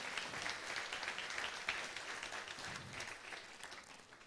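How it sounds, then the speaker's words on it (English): An audience applauds after a speaker's introduction at a talk, with a steady, fairly faint wash of clapping that holds evenly for a few seconds. "please, a round of applause for him"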